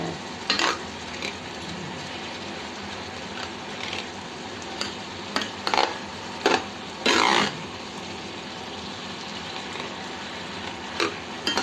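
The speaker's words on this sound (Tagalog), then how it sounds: "niluluto na natin yung tomato" Fresh tomatoes cooking in a pan, a low steady simmering sizzle interrupted by several distinct scraping stirs and clinks of a utensil against the cookware.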